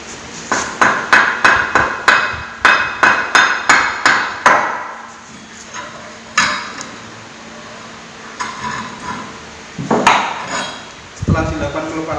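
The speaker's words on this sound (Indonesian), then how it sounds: "melepas rack dari housing dengan menggunakan" A wooden mallet knocks a steering rack out of its housing in an automotive workshop, a rapid run of about a dozen sharp loud blows, then pauses and a few scattered heavier strikes and metallic clatters.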